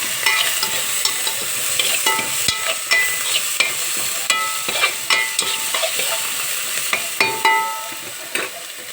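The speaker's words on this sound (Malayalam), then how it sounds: "കറിവേപ്പില ആവശ്യത്തിന് ഇട്ട ശേഷം ഇളക്കി കൊടുക്കാം." Curry leaves stirred and fried in a pan, a bright crackling sizzle punctuated by frequent sharp spoon scrapes and taps against the metal at a steady pace, close and fairly loud, with nobody speaking.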